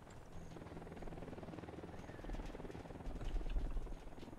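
A helicopter drones steadily in the tactical shooter game Ghost Recon Wildlands, a low continuous rotor hum that grows somewhat louder toward the end, with no speech over it.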